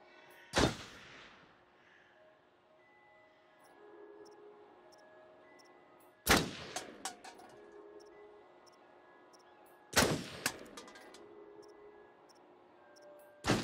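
Gunshots at a shooting range in the Until Dawn video game: three sharp, loud single shots spaced several seconds apart, each with a short echoing tail, over a quiet background with faint ticking.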